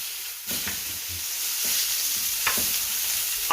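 A loud, steady sizzle of pork burgers frying in a pan, with a few scrapes and knocks as they are turned. No speech.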